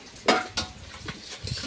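Fried snakehead fish pieces are lifted from a pan, with a few sharp metal scrapes and clinks of the spatula against the pan over a faint sizzle, close and quiet.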